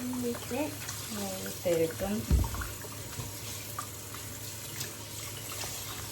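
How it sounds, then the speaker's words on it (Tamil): Chicken being rinsed under a running kitchen tap, with water splashing and trickling steadily, a few louder bursts early on, while someone talks over it. "திருப்பவும் கழுவுவோம். நல்லா கழுவணும்."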